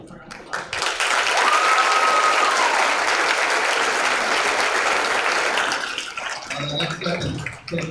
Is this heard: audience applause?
yes